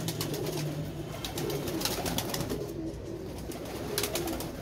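Pigeons coo softly in repeated low murmurs against a busy background of clicks and ambient noise.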